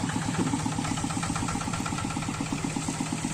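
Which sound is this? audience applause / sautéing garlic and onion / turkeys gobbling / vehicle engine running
vehicle engine running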